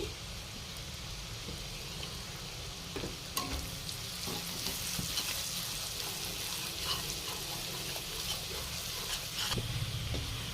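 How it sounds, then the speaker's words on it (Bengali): Chopped garlic for paneer bhurji frying in a pan, a steady close sizzle with scattered spatula scrapes and light ticks running throughout, with no voices. "এবারে দিয়ে দেব রসুন কুচি।"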